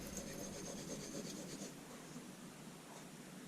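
A knife edge rubs across the finer side of a translucent Arkansas sharpening stone in soft, close, steady strokes, faint and scratchy, with no talking.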